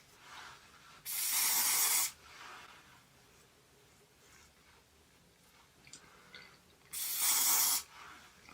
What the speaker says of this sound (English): we're just gonna spray this along the hairline.